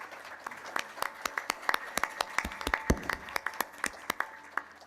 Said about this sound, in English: put your hands together and give this amazing speaker a round of applause